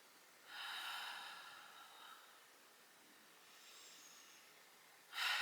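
Deep breathing during a yoga stretch session: one long, airy breath drawn in through the nose and slowly released, a fainter breath after it, then a sharp sniff at the end, all quiet and close.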